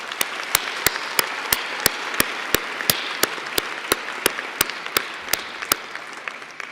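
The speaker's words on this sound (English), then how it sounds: "let's give them a round of applause and thank them" Audience at a college winter convocation ceremony applauding graduates' families: a steady crowd applause texture punctuated by loud, regular, sharp claps close to the microphone, with no talking.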